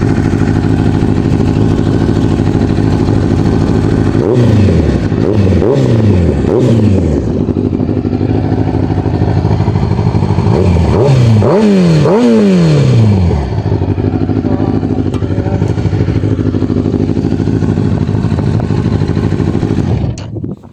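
A loud Kawasaki ZX-10R Ninja 1000cc inline-four superbike engine idles roughly, then revs sharply in several bursts of rising and falling pitch before settling back to a steady rumble.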